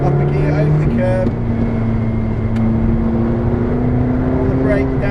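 A McLaren 620R engine pulls hard around the Silverstone race track, a loud, steady droning roar that shifts pitch at a gear change, with a voice speaking over it.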